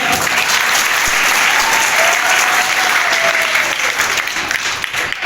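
Loud, sustained applause from a school audience at an anti-drug awareness event, dense steady clapping filling the whole stretch with a whistle-like tone drifting through the middle.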